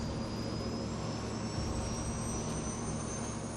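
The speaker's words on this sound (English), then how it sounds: "The plane lifts off, less than 3 minutes after it started to taxi." Airliner on its takeoff roll and lifting off, Santa Barbara Airlines flight, jet engines at full power: a steady, loud broadband roar with a rising high whine throughout, no voices.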